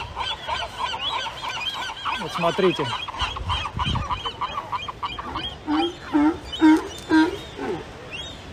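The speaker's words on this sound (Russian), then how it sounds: "А это чайки." Seagulls at the seashore, squabbling over stolen food near sea lions, give repeated harsh, honking cries that grow louder and more rapid toward the end, mixed with brief talking and other animal noise.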